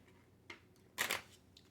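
Cards being shuffled for a tabletop Space Piracy game, heard close: a short riffle, a pause, then a louder and longer riffling burst, then a faint trailing flick.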